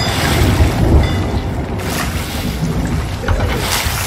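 A heavy storm with huge waves in the video game Sea of Thieves: a constant loud roar of wind and crashing water around a ship, with gusting surges and no talk.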